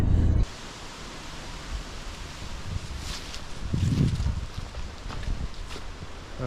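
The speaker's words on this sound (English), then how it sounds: "It's a bit windy out there." Wind blows across the start of a rocky trail in Michigan's Porcupine Mountains in fall, a continuous rushing hiss with low rumbling gusts buffeting the microphone, and no voices heard.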